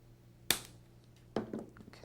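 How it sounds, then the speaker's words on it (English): Ergo Pro side-cutting pliers snip off the metal prongs on an eyeglass frame during a repair, giving two sharp, close clicks about a second apart with quiet in between. "clipping those prongs off using a cutting plier"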